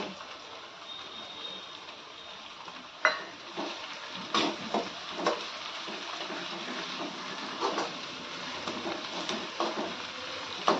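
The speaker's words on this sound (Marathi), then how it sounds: "कांदा टोमॅटो छान परतून घ्यायचंय" Onion and tomato sauté in a pan for a spring onion greens dish, giving a quiet, steady sizzle broken by a series of sharp spatula scrapes and clinks.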